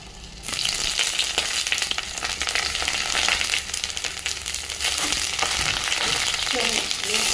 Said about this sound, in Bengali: এবার ওই তেলেতেই বেগুনগুলো দিয়ে দেবো আস্তে আস্তে